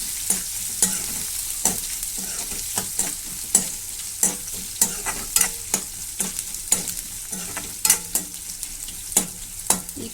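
Sliced onions fry in hot oil in a pan until browning, a steady bright sizzle with regular scraping stirs of a spoon, close and alone without talk.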